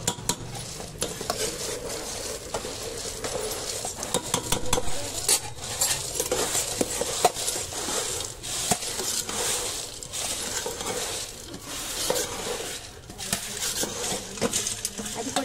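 Boondi is stirred in a pan with a metal spoon while making boondi laddu, giving continuous close scraping and clinking of metal on metal with brief pauses between strokes.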